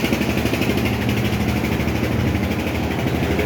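Launch boat engines idle at the Barisal launch ghat in the morning, a steady, loud, low rumbling drone with a constant vibration and no pauses.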